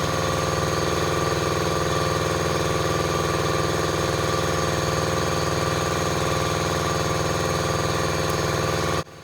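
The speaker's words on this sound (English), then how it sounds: "Let's start off with the rotary and a light polishing pad" A rotary car polisher fitted with a light polishing pad runs at constant speed, giving a loud, steady motor whine and hum that stops abruptly at the end.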